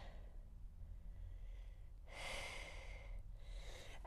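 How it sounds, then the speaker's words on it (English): A person exhales audibly during a yoga mobility stretch, a soft breathy rush that swells and then trails off over low room hum, with a second fainter breath following. "Breathing out."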